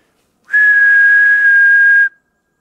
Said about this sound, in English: I'm just gonna whistle a couple of times before we turn around and head back for the house